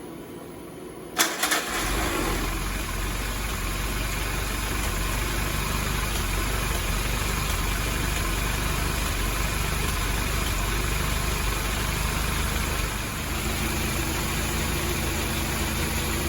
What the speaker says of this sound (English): Hit that switch and hopefully it starts right up